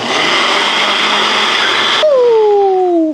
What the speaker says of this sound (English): We're gonna bring this over to our handy dandy blender